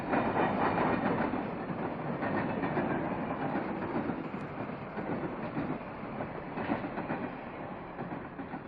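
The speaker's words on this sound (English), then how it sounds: "the C&O passenger train number 1, the George Washington, rushes past" The C&O diesel-hauled passenger train number 1, the George Washington, rushes past near a rail yard, a loud continuous roar of wheels and clattering cars that holds steady throughout.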